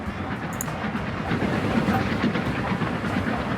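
A train rumbles past in the Transport Fever 2 railway game, a steady, moderately loud rolling sound with a faint hiss, heard alone.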